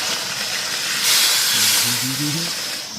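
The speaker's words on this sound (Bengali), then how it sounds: "সরষে ভাজা হয়ে গেছে, এবারে জল দিয়ে দেবো।" Water poured into fried mustard paste in a pan over an outdoor cooking fire sets off a loud, steady steam hiss that swells midway, while a faint voice briefly hums underneath.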